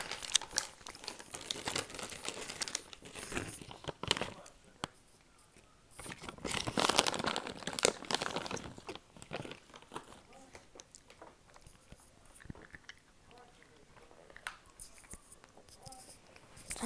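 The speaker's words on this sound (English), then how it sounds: "Eating mini Starburst check." Mini Starburst candies being unwrapped and eaten, with close crinkling wrapper rustles and biting and chewing sounds that come in bursts, loudest in the middle, and no talking.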